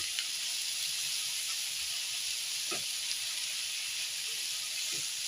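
Mixed leafy greens (shak bhaji) frying in a pan give a constant soft sizzle and hiss, with a few light scraping stirs scattered over the steady crackle.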